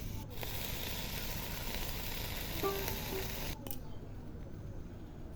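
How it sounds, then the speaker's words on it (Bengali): Fish and vegetables fry in oil in a home kitchen, giving a dense, even sizzle that carries on strongly, then settles a little quieter near the end, with no voices over it. "তেল দিয়ে মাছগুলো ভেজে নেবে, তারপর সবজি দিয়ে ভালো করে কষিয়ে নেবে, ভাজা ভাজা করবে।"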